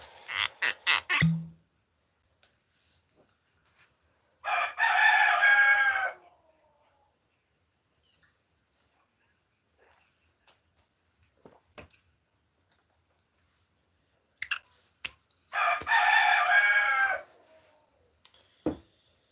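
A rooster crows twice, loud and fairly close, separated by a long pause with occasional faint clucks and clicks in between.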